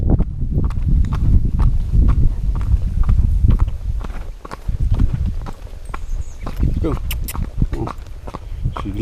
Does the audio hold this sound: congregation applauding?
no